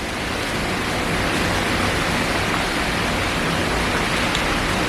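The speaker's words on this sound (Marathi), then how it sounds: "मुसळधार पाऊस आहे" Heavy monsoon downpour in the Konkan countryside, a dense steady roar of rain beating down without pause, loud and unbroken with no voices.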